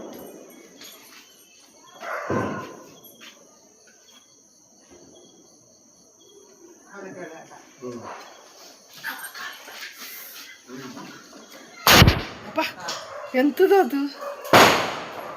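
Firecracker bombs burst during a Tulasi puja celebration, two sharp loud bangs standing out over a dog whimpering, insects chirping and people talking.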